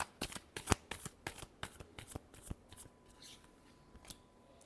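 Tarot cards being shuffled by hand, a quick run of crisp riffling snaps and flicks close up, thinning out toward the end, with no talking.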